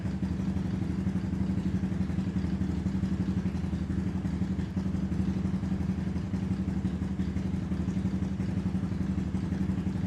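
A refreshed Suzuki LTZ 250 quad engine idles steadily and close by, a low, throaty putter with a light mechanical clatter holding an even rhythm throughout, with no voices.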